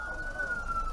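An ambulance siren wails on a flooded, landslide-hit road in Peru, a steady high tone holding over a rumbling low background of traffic.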